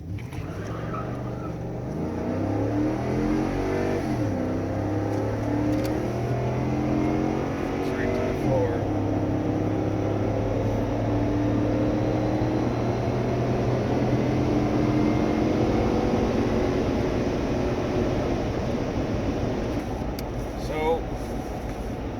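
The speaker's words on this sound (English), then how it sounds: "we're going to pull out, come to a complete stop, go" A 2011 Ford F150 pickup with the 5.0L V8 pulls away hard from a full stop, its engine note climbing steadily through several gear changes over a continuous loud drone, heard from inside the cab.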